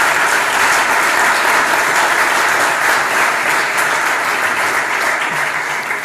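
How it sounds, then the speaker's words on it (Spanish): Sustained audience applause at the Know Square 2022 awards ceremony in a hall, a dense, loud, even wash of clapping from many hands that continues without a break throughout. "Mónica, muchísimas gracias y un aplauso, por favor."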